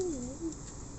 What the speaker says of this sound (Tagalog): Marami kalapati.